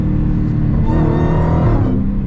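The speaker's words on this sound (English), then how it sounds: "The supercharger whine, the exhaust," Supercharged Dodge Challenger Hellcat revs hard, its deep exhaust roar swelling with rising harmonics and a whine on top, loud and close, no voices.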